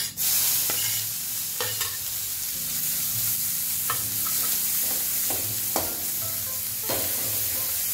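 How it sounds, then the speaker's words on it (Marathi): Finely chopped onion fries in hot oil with asafoetida, a constant close sizzling hiss broken by repeated scraping stir strokes, with no talking. "कांदा चांगला ब्राऊन कलरवर परतून घ्यायचा आहे"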